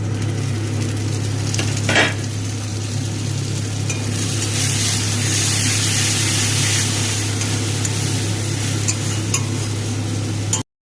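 Masala with grated tomato and chopped green chilli frying and being stirred in a pan for a baby corn dry chilli dish, a steady close sizzle with a brief scrape near the start and no talk.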